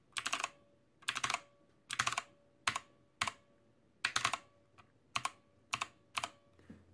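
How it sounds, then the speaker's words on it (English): Clicky mechanical keyboard keys clack in short bursts with a sharp metallic ping ringing after several presses, close and clear in a quiet room. "They have a very satisfying click noise, followed by an extremely loud ping."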